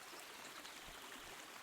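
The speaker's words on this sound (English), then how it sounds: "It's a good thing we have this stream." Steady, gentle babble of a flowing stream in the medieval Bohemian countryside of Kingdom Come: Deliverance, a soft continuous trickle with no voices.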